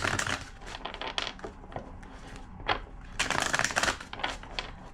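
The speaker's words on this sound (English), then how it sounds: "2 more shuffles." Crisp riffling and flicking of tarot cards being shuffled up close, coming in quick bursts with short pauses between them.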